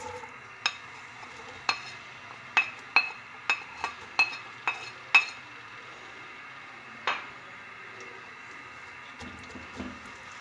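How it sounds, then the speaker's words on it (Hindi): Onions frying in about one and a half cups of oil in a cooking pot, a soft steady sizzle under a string of sharp metal clinks as a spoon stirs and knocks the pot's sides, then quieter frying toward the end. "प्याज को लाइट ब्राउन होने तक फ्राई करूंगी"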